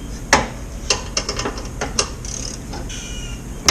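Repeated sharp metallic clicks from a lawn mower's deck belt tension lever as it is worked back and forth, close and irregularly spaced over a steady low background hum.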